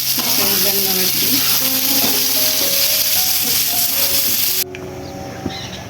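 Potatoes fry in hot oil in a pan, a loud dense sizzle with crackling pops that runs steadily and then drops abruptly to a quieter hiss near the end.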